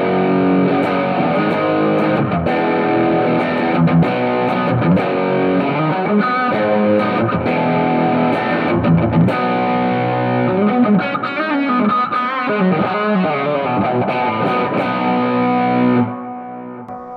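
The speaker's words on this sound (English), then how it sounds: "I'm gonna push the distortion higher." A heavily distorted electric guitar through a Positive Grid Spark 40 amp's drive pedal plays sustained, buzzing chords and riffs for a long stretch, loud and thick, then cuts off near the end.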